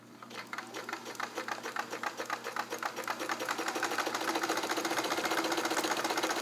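A restored all-metal 1970s Kenmore 158.1941 free arm convertible sewing machine runs alone, its rapid mechanical stitching starting in uneven bursts and then settling into a fast, steady, close-up whir.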